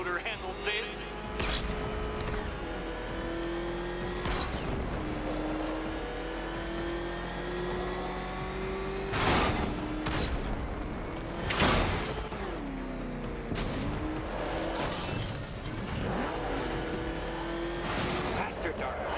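Engine of the Batmobile revving and roaring in Batman: Arkham Knight, a steady loud drone with rising and falling pitch sweeps and repeated sharp bursts, under a villain's taunting voice.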